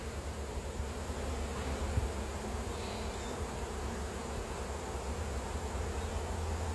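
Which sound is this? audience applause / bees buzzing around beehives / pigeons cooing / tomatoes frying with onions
bees buzzing around beehives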